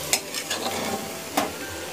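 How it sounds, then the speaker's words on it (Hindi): Vegetables roast and sizzle in a pan for a vegetable khichdi, with a steady soft frying hiss and two sharp scrapes of a spoon stirring them, close by and with no voices. "इनको भी भून लूँगी।"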